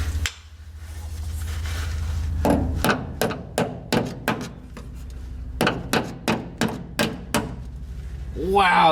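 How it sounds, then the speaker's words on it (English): A ball peen hammer strikes metal about fifteen times in uneven bursts, sharp ringing blows close by, after a low hum fades out, while shaping hand-built brake lines on a 1962 AMC Rambler. "there's a ball peen hammer within reach."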